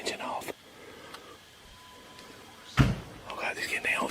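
A car door thunks shut once as the driver climbs out, a single heavy close-range impact in a quiet outdoor setting, with whispering voices before and after.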